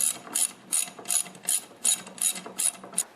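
Ratchet tightening bolts on an Ariens snowblower friction disc, about eight evenly spaced crisp clicking bursts in a steady rhythm, close and clear.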